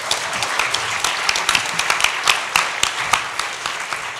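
An audience claps and applauds at a spoken-word performance event, with many sharp hand claps in a lively, uneven patter that stays steady and fairly close throughout.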